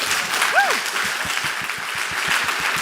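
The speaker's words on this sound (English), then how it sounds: "Please join me in one last round of applause for everyone who was here today" An audience at a food sovereignty conference in Rotterdam gives a final round of applause at the close: a broad, even wash of clapping throughout, with a brief whistle-like tone near the start and a faint regular thumping underneath.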